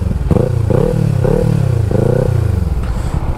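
A modified superbike engine revving hard several times in quick succession, loud and close, each blip rising and falling in pitch with a mechanical rattle underneath and no voices.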